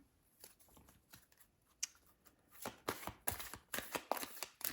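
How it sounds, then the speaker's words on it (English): Tarot cards are pulled and shuffled in a series of close, crisp riffling flutters and taps, quiet at first and then quickening into louder bursts near the end. "I'm going to pull another card as well"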